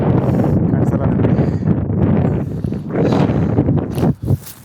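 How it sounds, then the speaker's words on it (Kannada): Strong wind on the Har ki Dun mountain trek roars in a loud, continuous rush across the microphone, buffeting and gusting, then briefly dropping near the end. "ಈಗ ವಿಪರೀತ ಗಾಳಿ ಬೀಸ್ತಾಯಿದೆ."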